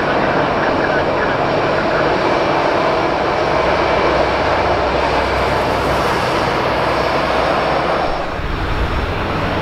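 An airliner taking off at Madeira Airport on runway 05, a loud, close, steady jet engine roar with a broad rushing wash that holds for the whole stretch and eases slightly near the end.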